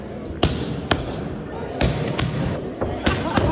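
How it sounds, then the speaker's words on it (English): A boxer's punches strike padded gloves in a series of sharp, loud impacts with irregular spacing, heard over a noisy, steady background. "listen to the sounds of these punches hitting the glove"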